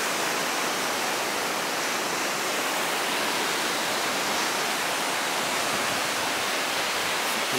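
Ocean waves break at a North Myrtle Beach pier in the early morning, heard as a steady, dense wash of surf that stays even and fairly loud for the whole stretch, with no voices over it.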